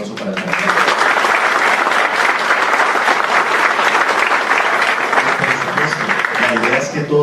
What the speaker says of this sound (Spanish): les pido el favor de que nos regalen otro aplauso para el trabajo